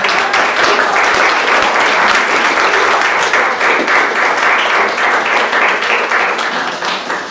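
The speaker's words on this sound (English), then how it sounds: "Can we just give them a round of applause" Loud, dense applause from a church congregation at a Mother's Day morning service, sustained and close throughout before easing slightly at the end, with no talk over it.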